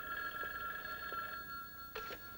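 A telephone rings faintly in a 1970s setting while an operator connects a call: two short electronic ring bursts separated by a pause, over a steady hum, with no speech.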